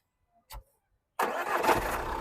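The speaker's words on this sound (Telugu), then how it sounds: "సింగిల్ సెల్ఫ్లో బండి స్టార్ట్ అవుతుంది సార్" A short click, then the diesel engine of a 2017/18 Jeep Compass Longitude SUV cranks once and catches, settling into a steady idle nearby.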